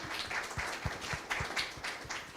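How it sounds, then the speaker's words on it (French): Scattered applause from a small audience at a talk on over-indebtedness, moderately quiet with individual claps audible in an uneven rhythm. "maintenant, oui, on peut l'applaudir."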